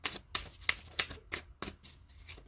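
Tarot cards shuffled by hand in a quick run of about eight crisp riffling bursts, close and fairly soft, with no talk.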